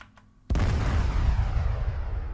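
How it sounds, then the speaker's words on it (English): An artillery shell explodes in the ARMA 3 video game with the Blastcore Standalone effects mod, a single sudden heavy boom followed by a long rumbling, echoing roll that keeps going. "And let's try the artillery again."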